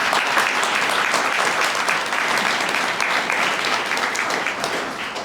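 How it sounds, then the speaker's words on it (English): Sustained applause from a ceremony audience at a June 2024 Richmond Police Department promotion ceremony, a dense steady wash of clapping from many hands filling the whole stretch without pause. "that's a round of applause"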